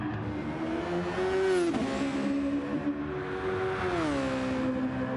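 Super Formula race car engine in a racing game at the Nurburgring, a loud high-pitched whine that rises and dips through gear shifts, steady and close with no voices.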